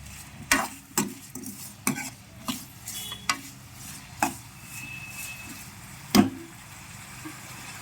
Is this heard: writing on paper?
no